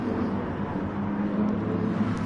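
A Lamborghini in a team racing video game hums with a steady engine drone as it drifts, a low sustained tone without clear revs.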